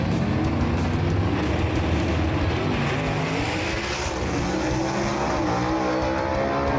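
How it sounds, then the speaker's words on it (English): A 1931 Ford gasser with John Causey horsepower roars down a drag strip, its loud, continuous engine blast sustained throughout without pause. "Drag race right there"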